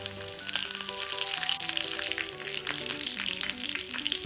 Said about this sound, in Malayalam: അര ടീസ്പൂൺ കടുകും ഒന്നോ രണ്ടോ വറ്റൽ മുളകും കുറച്ച് കറിവേപ്പിലയും ചേർത്ത് കടുക് കൂട്ടിക്കാം